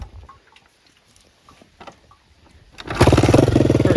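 A 1979 Honda XR200 motorcycle engine, freshly serviced, catches on a kick start with the choke off after a few faint mechanical clicks, then settles into a loud, steady, close-up idle.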